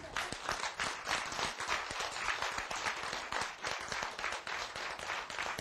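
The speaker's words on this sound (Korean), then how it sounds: "박수!" Sustained applause from an audience, dense and steady clapping filling the whole stretch at moderate loudness with no pause.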